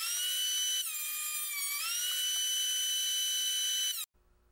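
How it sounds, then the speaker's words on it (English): A planer thicknessing rustic alder boards down to 1 3/4 inches gives a loud, steady high-pitched motor whine whose pitch dips briefly under load, then cuts off abruptly near the end, leaving a faint low hum. "then run them through my planer to get them down to a thickness of 1"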